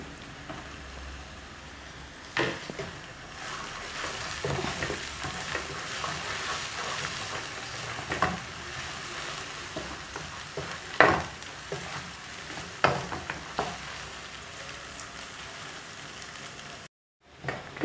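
Chopped onion with a big spoonful of garlic frying in a pan for chicken shakshuka gives a steady close sizzle, broken by occasional stirring scrapes and clinks, with a brief silence near the end.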